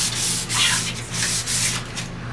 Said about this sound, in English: we are in sanding mode right now